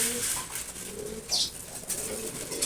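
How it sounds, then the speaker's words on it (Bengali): Pigeons coo softly while eating their feed, low repeated coos close by with a few brief chirps and a light flutter, no voices. "দেখেন সব কবুতরগুলোই খাবার খাচ্ছে"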